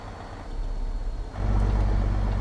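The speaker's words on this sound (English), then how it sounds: "That engine sounds good for a good old healthy" A truck engine idles low, then swells into a louder, heavier rumble about halfway through and holds steady, close by with no talking.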